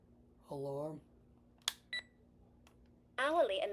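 A Reizen atomic talking alarm clock gives two short, sharp beeps as its settings are toggled. A synthesized voice speaks before and after the beeps over a faint steady hum.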